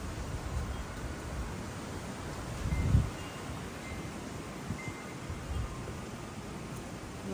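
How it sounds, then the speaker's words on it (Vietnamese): Strong winter wind rushes outdoors in Houston, Texas during a freeze, a steady broadband roar with gusty swells and a brief buffet against the microphone, with no one speaking. "Nghe tiếng gió không?"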